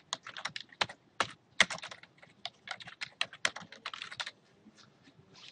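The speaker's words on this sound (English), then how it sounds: "I'm just going to type Oahu Travel Guide." Someone types a short phrase on a computer keyboard, keystrokes falling in quick irregular bursts with brief pauses, close and fairly quiet, with no talking.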